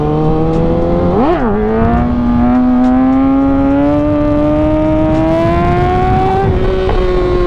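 A motorcycle engine revs hard in second gear around 4,000 RPM during a beginner wheelie, loud and close, with a sharp throttle blip early on, then a steady rising drone that climbs gradually in pitch, heard alone without talk.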